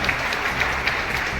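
Scattered clapping from an audience in a hall at a Hindi literary award ceremony, faint and thin, a few hands patting in an uneven rhythm for about a second and a half.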